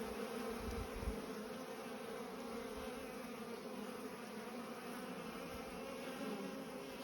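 Honey bees buzz in a yard as a steady, even drone from many insects, continuous and fairly faint, with no voices.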